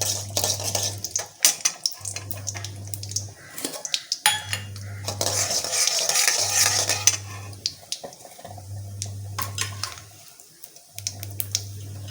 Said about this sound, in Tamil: கடாயை வச்சு கொஞ்சம் எண்ணெய் ஊற்றி கடுகு கடுகு போட்டாச்சு அது கொஞ்சம் நல்லா பொரியணும்